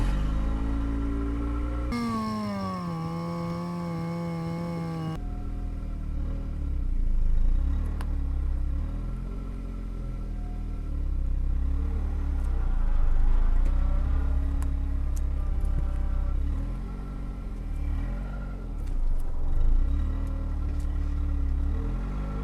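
A car with an oil-burning engine on its first drive after a Valvoline Premium Blue Restore oil treatment, its engine note steady and close with a few swells of acceleration, preceded by a brief rising whine.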